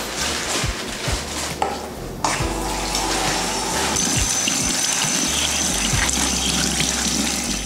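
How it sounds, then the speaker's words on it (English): Butter lettuce being rinsed under a running kitchen tap, a steady loud gush of water splashing over the leaves throughout, with brief shifts as the stream is moved, and no talking. "So get rid of the root and go ahead and rinse it off."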